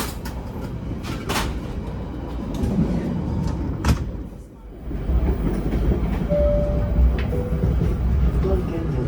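A passenger train on the Bandung to Banyuwangi route in Indonesia rolls along the rails with rumbling and rhythmic clatter, sharp clanks and a brief lull, heard from inside the carriage.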